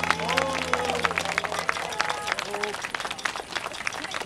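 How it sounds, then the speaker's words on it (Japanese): Crowd applauding and cheering at an outdoor anti-nuclear rally in front of the National Diet main gate in Tokyo, a dense, steady wash of clapping with crowd noise and a voice over a loudspeaker throughout. "もう一度皆さん、議員の方、皆さんに大きな拍手をお願いいたします"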